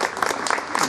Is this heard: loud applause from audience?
yes